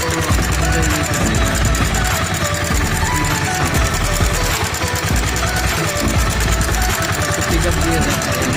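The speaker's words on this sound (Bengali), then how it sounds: "লিক করে প্রচণ্ড ইঞ্জিনের সাউন্ডটা তো বোঝাই যেতেছে" A Bajaj Pulsar UG3 motorcycle with an engine oil leak runs loudly and roughly, its dense, steady mechanical clatter and rumble continuing close by without a break for the whole stretch.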